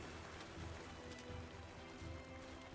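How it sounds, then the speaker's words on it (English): Rain falls in the video game Magicka, a quiet, steady patter of drops on a surface that continues evenly without voices. "it's raining"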